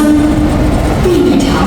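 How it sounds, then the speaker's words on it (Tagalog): A train rumbles into a Hong Kong station on the route from Tung Chung to Hong Kong Disneyland, under steady station noise, with a brief rising squeal near the end as it rolls closer. "Ayan na yung tren, oh."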